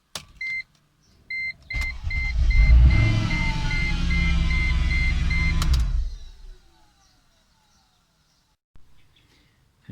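Mercedes C55 with M113 engine briefly started: a chime beeps first, then the engine cranks and catches into a loud, close few-second idle before shutting off and fading to quiet.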